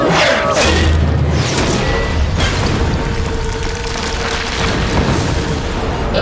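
A cartoon weapon shot and explosion in an animated action series: a loud, heavy booming blast that rumbles on and fills the whole stretch, dense and roaring with crashing debris.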